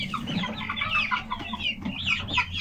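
Young Rhode Island Red and Australorp chickens cluck close by in a coop, a busy overlapping chatter of short calls with no pauses.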